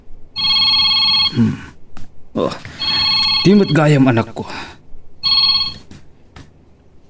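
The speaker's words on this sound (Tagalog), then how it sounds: "Adaw mauawag iti cellphone ko." A cellphone rings in repeated electronic bursts, loud and close, and a person speaks between the rings.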